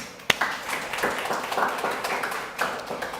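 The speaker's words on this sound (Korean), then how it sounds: "하나님께 영광의 박수를" A church congregation at a Sunday worship service claps in scattered, moderately faint applause, with a sharp tap near the start.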